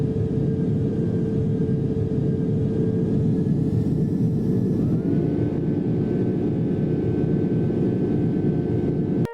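An old propeller plane's engine from Roblox Project Flight drones as a steady, loud, unbroken rumble with a constant hum that shifts slightly in tone partway through, heard alone.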